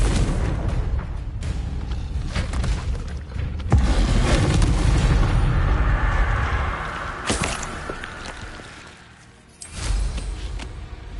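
A Confringo fire spell bursts in Hogwarts Legacy, with loud booming blasts and a whooshing, crackling roar that swells and fades, then another sharp burst near the end, all up close and without talk.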